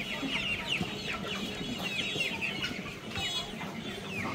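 Several chickens cluck repeatedly at close range, with soft, busy farmyard fowl chatter that continues throughout without talk.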